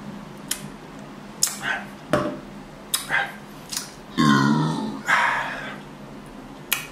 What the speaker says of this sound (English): Make sure you burp.